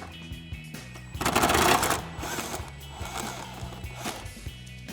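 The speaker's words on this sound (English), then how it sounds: "we'll grab our 10mm socket and extension on our impact and go ahead and run that off" An impact wrench with a 10mm socket and extension runs a nut off during a cold air intake install on a 2019-2024 V8 GMC Sierra 1500, giving a brief loud rattling burst amid clicks and clatter of the nearby work.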